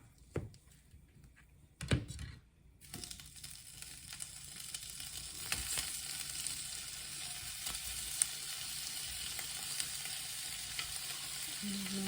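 Sliced canned corned beef frying in a pan, a few early clacks as slices go in, then a steady crackling sizzle that builds and holds, close and without talk.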